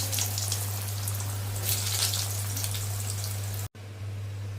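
Potatoes frying in a pan, giving a steady crackling sizzle that runs almost unbroken under a low electrical hum, with a short dropout near the end before the sizzle resumes.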